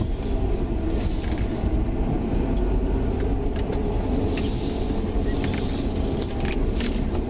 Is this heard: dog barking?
no